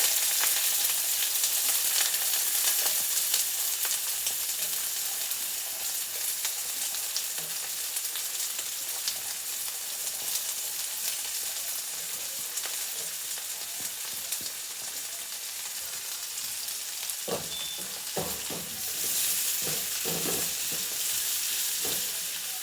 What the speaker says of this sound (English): We're going in first with the onions. Yeah, this pot is a little too hot. Onions, garlic.